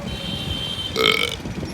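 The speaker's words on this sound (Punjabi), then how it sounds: "ਡਕਾਰ ਖਾਣ ਦਾ ਨਹੀਂਗਾ ਪਾਣੀ ਬੜਾ ਪੀਤਾ" A man lets out one short, throaty burp after drinking a lot of water. It rises clearly over faint background hum, with no talking.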